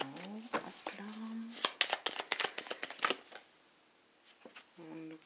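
Tarot cards are shuffled in quick riffling bursts, a dense run of crisp flicks in the middle, while someone speaks French before and after.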